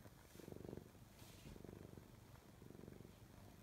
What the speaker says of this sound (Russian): и мурчит, слышите?